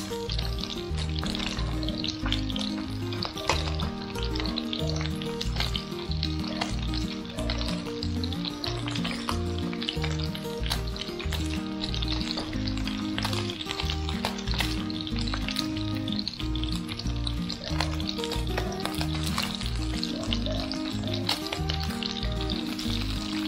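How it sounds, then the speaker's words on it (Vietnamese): Fish (cá phèn) frying in hot oil in a pan, a steady dense sizzle and crackle running throughout at close range, with no talking. "mình tiếp tục mình chiên cho mặt bên đây nó vàng tiếp"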